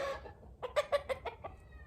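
Hens in a barn give a close, quiet run of short rhythmic clucks, about six in quick succession after a brief softer vocalisation, with no talking.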